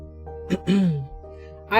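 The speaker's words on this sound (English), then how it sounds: "I always like clear my throat" A woman clears her throat in short raspy bursts, close to the microphone, in a quiet room.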